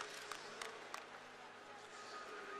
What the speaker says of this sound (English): Green coach clapping there